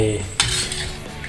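A spoon clinks and scrapes against a jar as homemade stir-fry sauce is scooped in, one sharp knock near the start, then soft scraping and rattling close by.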